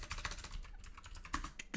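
Typing on a mechanical computer keyboard, a close, steady run of sharp clacking keystrokes with no talk over it.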